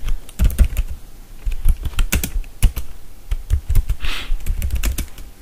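Someone types Java code on a computer keyboard, producing close, irregular clacking keystrokes in quick clusters with brief pauses and no talking.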